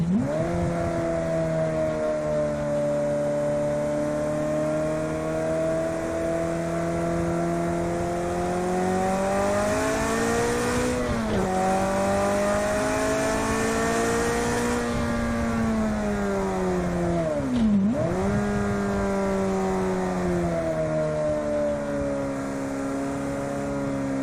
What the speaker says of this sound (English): Here I am doing a warm-up lap with cold tires